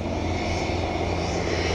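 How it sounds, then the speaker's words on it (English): A steady, loud whine and roar of a Learjet engine fills the air without a break, with a deep rumble underneath. "Waiting for the jet to take off. You can hear it. It's like a Learjet."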